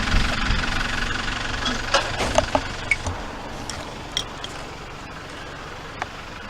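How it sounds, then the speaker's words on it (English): The diesel engine of an Edinburgh bus, once a hybrid and now mechanically driven, runs with a steady low knocking rumble, heard close from inside, with a few sharp clicks and rattles in the middle. "the diesel engine doing all the work."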